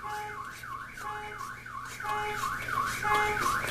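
A car alarm wails nearby in a workshop during a transmission rebuild, its pitch sweeping up and down in repeated cycles, growing louder partway through.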